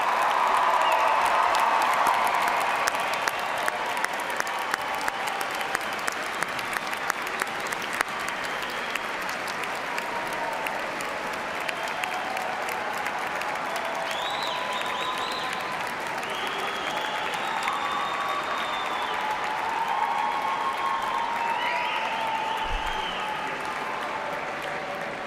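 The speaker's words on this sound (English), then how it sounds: "let us recognize with a hearty round of applause the newest graduate of Eastern Kentucky" Sustained applause from a large crowd for the Eastern Kentucky University fall 2017 graduating class at a commencement ceremony, a steady wash of clapping with a few cheers that rolls on evenly throughout.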